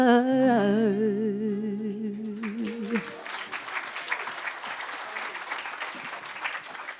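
A sung vocal line with held, wavering notes ends, then an audience at a Real Talk evening in Hawke's Bay breaks into applause, moderately loud clapping with some cheers that carries on to the end.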